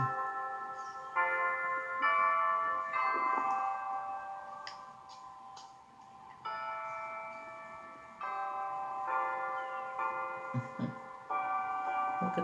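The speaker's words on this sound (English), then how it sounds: "It just was church bells" Church bells ringing outside a church auditorium, captured on an iPhone: a steady sequence of clear metallic strikes with ringing tones, moderately loud over faint background noise, with no one speaking.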